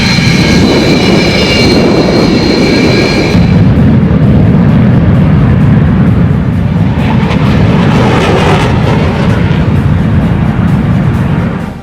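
Fighter jets, including Tejas and Rafale, flying during a multinational air force exercise at Sulur airbase in Tamil Nadu, India: a loud, continuous jet roar fills the whole stretch with a sharp high whine at the start, heard alone.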